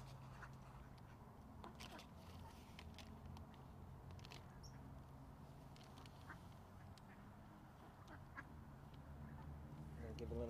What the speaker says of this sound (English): All our duck friends.